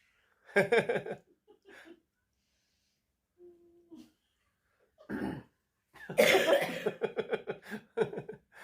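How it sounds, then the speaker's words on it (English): A person coughs in harsh bursts, pausing briefly, then breaks into a longer fit of hacking coughs close by. "Don't cough too much."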